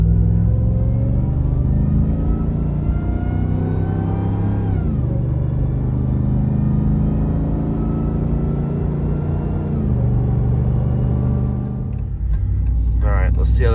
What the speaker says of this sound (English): You can definitely hear the supercharger whine just driving it with the trailer load behind it.